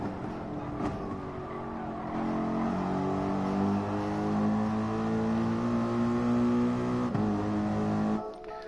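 A race car engine in Gran Turismo Sport howls steadily at high revs and climbs through the gears with brief dips at each shift, loud and continuous, with a quick cut near the end.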